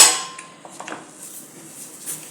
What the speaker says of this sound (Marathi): आता पीठ थोडंसं मध्ये एकदा हलवून घेऊया आता पीठ थोडंसं हलवायचं आपण